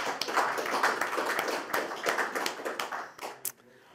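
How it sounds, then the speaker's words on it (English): Audience applause at the closing ceremony of a web conference, steady close clapping from many hands for a few seconds before it quickly dies away. "So another big round of applause for all of those helpers."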